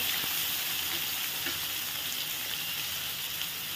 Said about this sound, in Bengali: কিছুক্ষণের জন্য আলু আর কুমড়োটি ভেজে নেব।